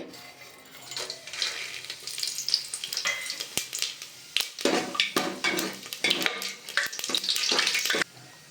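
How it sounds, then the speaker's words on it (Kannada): Pulao spices hit hot oil and ghee in a pan, a bright crackling sizzle with bursts of spattering and a few clanks of a utensil, loud and close, no talking. "ಈಗ ಎಣ್ಣೆ ಕಾದಿದೆ ಈಗ ಪಲಾವ್ ಸಾಮಾನು ಸ್ಪೈಸಸ್ ಎಲ್ಲ ಆ್ಯಡ್ ಮಾಡ್ಕೊಳ್ಳಿ"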